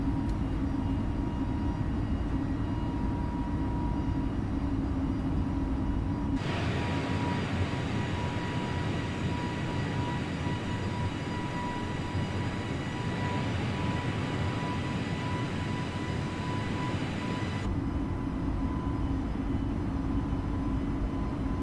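Airliner engines in Microsoft Flight Simulator during a climb out of Puebla toward Puerto Vallarta, heard as a steady cabin drone with a low hum that thickens into a broader roar midway before settling back, with no talk.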